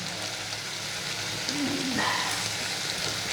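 Masala fries in oil in a pan until the oil separates, producing a constant dense sizzle with a faint rain-like texture and a few small clinks, close and unbroken.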